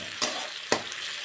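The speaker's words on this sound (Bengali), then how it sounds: "পেঁয়াজটা আমার ভাজা হয়ে এসেছে, এবার একটু আমি এখানে" Ginger garlic paste and onions frying in a pan give a faint steady sizzle, broken by two short sharp crackles.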